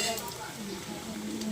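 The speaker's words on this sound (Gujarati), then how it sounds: "બાટી તળાય છે" Baati dough balls deep frying in hot oil, giving a steady, dense sizzle that runs the whole time, with faint voices in the background.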